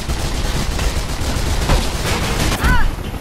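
Loud, dense gunfire in the Mirror's Edge video game, with sharp shots cracking over a constant roar of action.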